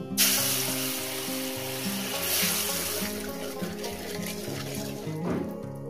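Salt dropped into hot oil heated for frying katla fish curry, giving a continuous crackling sizzle and hiss that fills the clip, with a melodic tonal background running underneath.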